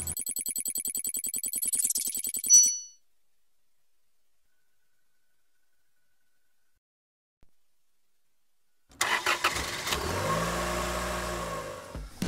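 A motorised LEGO Technic Madoka's SUV 4x4 model with working lights runs on a test track in fast 9-volt mode. After a ringtone-like melody and a long silence, a close electric motor whines and buzzes briefly.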